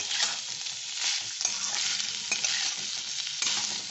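Chicken filling for kachori fries in a pan, salted and being stirred, giving a dense steady sizzle with repeated scraping strokes of a spatula throughout, close and fairly loud, with no talking.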